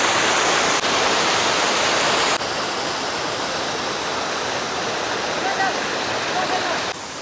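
Waterfall in Patratu Valley near Ranchi, a loud, steady roar of rushing water filling the whole clip up close.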